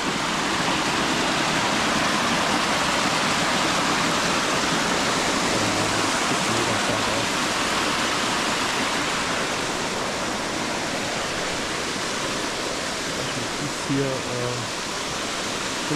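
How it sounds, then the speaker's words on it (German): A loud waterfall roars near a cave entrance, a constant dense rush of falling water filling the whole scene without pause. "Der Wasserfall ist zu laut."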